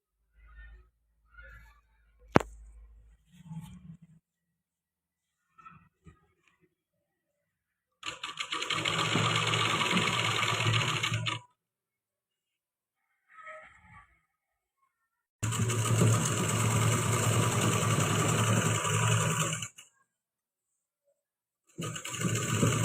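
A sewing machine runs in two long bursts of steady, fast stitching along the edge of a salwar seam, with quiet handling of cloth between runs and a third burst starting at the end.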